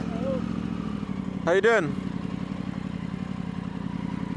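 Motorbikes riding past on a road during a motorcycle tour, a short rising-and-falling engine pass over steady idling background noise, while a person talks nearby.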